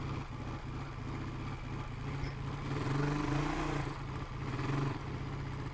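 A Honda two-wheel-drive motorcycle built for the US government churns its wheels into a rut, its engine holding a steady droning growl that swells louder twice as the throttle opens.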